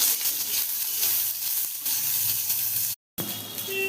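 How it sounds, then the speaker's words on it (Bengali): Chopped onions fry with cumin seeds in a hot pan, giving a steady close sizzle and hiss, with light stirring scrapes and a brief break near the end. "এবার এটাকে আমি একটু নাড়বো, পেঁয়াজটা লাল হওয়া পর্যন্ত"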